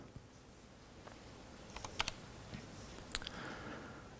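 Soft clicks of a computer keyboard as a few keys are tapped while editing in Vim, sparse and quiet over faint room hiss.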